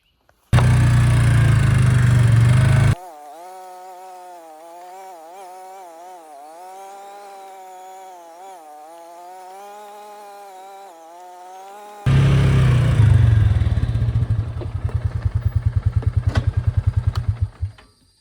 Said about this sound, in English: Videotaped on a four-wheeler.